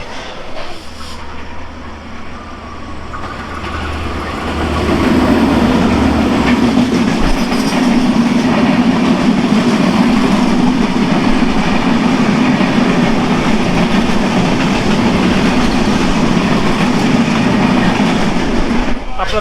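The Kurigram Express runs steadily on its route from Dhaka to Rangpur, a loud continuous rumble with rail clatter building after a quieter start and holding for the rest of the stretch.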